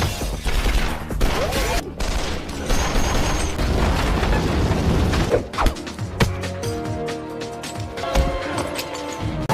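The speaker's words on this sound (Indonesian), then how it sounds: "langsung terjadi baku tembak di antara mereka" Gunfire in a film shootout scene, a dense burst of rapid shots and impacts with mechanical clatter, loud and close, easing into scattered hits and sounds of movement.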